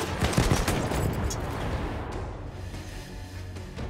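Rifle fire in the Battlefield 1 multiplayer shooter: a dense burst of several gunshots up front that thins into a lingering rumble and scattered battlefield noise, loud and with no talking.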